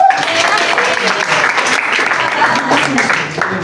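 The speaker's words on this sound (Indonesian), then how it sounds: "tepuk tangan untuk kita" A group claps together in a sustained burst of applause lasting a few seconds, fairly loud and close, with some voices mixed in.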